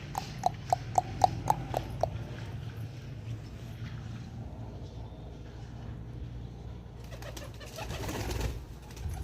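Five pet pigeons kept in a wooden coop box, with a quick run of soft coos and fluttery knocks at the start, then low muffled shuffling and rustling, fairly faint and close.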